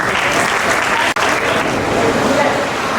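Audience applause at a students' interaction session with a government minister: dense, loud, sustained clapping from a large crowd that briefly dips and then continues steadily.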